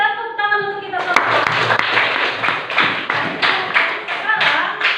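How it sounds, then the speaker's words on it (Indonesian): Group clapping at a school counselling session, rhythmic rounds of hand claps in a fairly regular beat after a brief tonal sound, close and moderately loud. "Tepuk tangan untuk kita semua."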